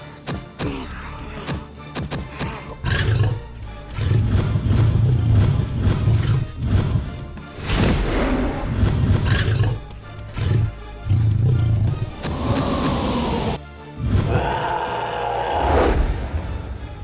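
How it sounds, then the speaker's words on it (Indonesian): A lion and a tiger roar repeatedly in a television drama scene, loud, deep and overlapping, with dramatic music and crashing effects filling the stretches between roars. "Itu suara singa sama harimau."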